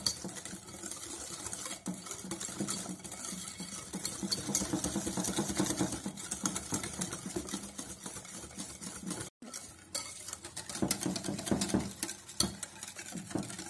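Light cream mixture being stirred in a bowl for a rhubarb tart, a brisk, dense run of whisking and scraping strokes that continues throughout, with a brief pause partway through before picking up again, up close and with no one talking.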